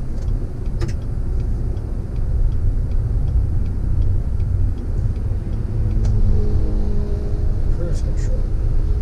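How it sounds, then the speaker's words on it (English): A 2019 Chevy Silverado 1500 High Country pickup cruises on the highway with a steady low road rumble and engine drone, interior cabin noise constant throughout, with faint passing traffic. "I'll show you what it's like on the highway and how it sounds and everything like that."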